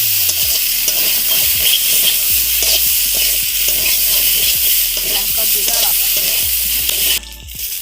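Chili, ginger and cumin paste fries loudly in hot oil with fried potatoes, a constant close sizzle broken by regular scraping stirs of a spatula against the pan.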